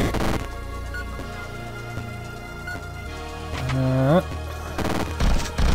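Rapid gunfire from bullets in the NeuroVoider robot shooter game, a dense burst of repeated shots with a rising swept tone and sharp impacts, loud and close over busy game music.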